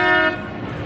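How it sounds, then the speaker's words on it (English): A water taxi sounds its horn at a theme park in Orlando, a loud, close, steady tonal honk lasting about a third of a second before fading into ambient noise. "Everybody wave to the water taxi. It honked at us."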